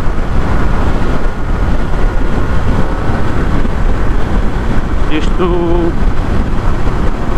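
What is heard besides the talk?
wind noise in helmet riding BMW F900R motorcycle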